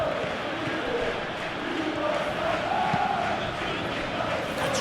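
Football stadium crowd in the SP Football Life video game during a Europa League match between Nottingham Forest and Aston Villa, a steady, loud wash of massed crowd noise with faint chanting swells running throughout.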